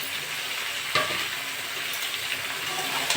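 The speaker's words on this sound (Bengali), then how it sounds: "নেড়ে চেড়ে নেবো।" Ridge gourd and prawns sizzle in a hot pan with garlic, ginger and tomato as a spoon stirs them, giving a steady frying hiss broken by a few sharp scraping clinks against the pan.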